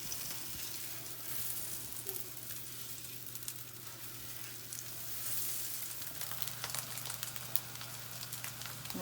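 Sweet pastry cooks in a frying pan, giving a steady, soft, close sizzle with faint crackles and a low hum beneath, unbroken throughout.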